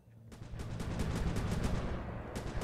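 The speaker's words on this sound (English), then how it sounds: "Those fireworks do have AoE splash damage, so you will end up doing a little bit of friendly fire to Murray" Fireworks burst in quick succession during a Sly 3 level on PS2, a dense crackling, popping barrage of evenly spaced blasts over a loud rumbling game soundtrack.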